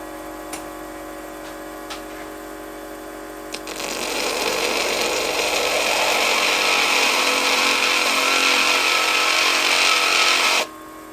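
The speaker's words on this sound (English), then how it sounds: "the flat lap will make short work of this" A flat lap grinds a river rock being shaped into dice, a steady, loud, close whirring with abrasive hiss that runs for about seven seconds after a few light ticks and then stops abruptly.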